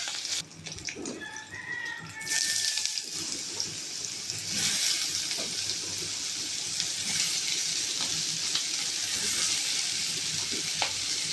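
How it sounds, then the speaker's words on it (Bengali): Chopped bottle gourd hits hot oil with cumin and split green chillies, setting off a loud, sustained sizzle and splatter after a brief quieter start, with some stirring and a faint tonal clink early on. "ফোড়নটা ভাজা হয়ে গেলে দিয়ে দেবো কেটে রাখা লাউ।"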